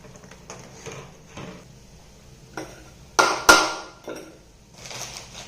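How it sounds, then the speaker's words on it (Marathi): A thickening tamarind chutney with salt and coriander-cumin powder is stirred in a pan, giving sparse scrapes and taps of a spoon against metal, with a couple of sharper knocks midway and no voices. "हे मिश्रण घट्ट होईपर्यंत या ठिकाणी मी परतून घेणार आहे"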